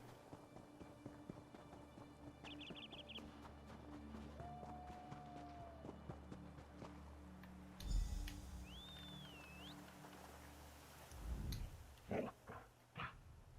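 In the Elder Scrolls Online game, a dog answers a dog whistle on a cold, barren island lookout: a whistle tone, then scattered barks and padding steps over quiet ambient wind and game chimes.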